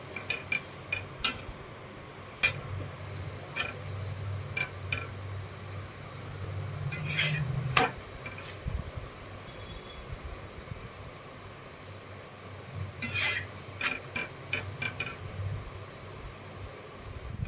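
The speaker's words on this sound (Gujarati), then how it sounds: "આપણે બંને બાજુથી આને શેકી લેવાનું છે" Spinach thepla flatbread roasting in an oiled pan, with scattered metallic clinks and scrapes of a utensil against the pan over a low steady cooking hiss.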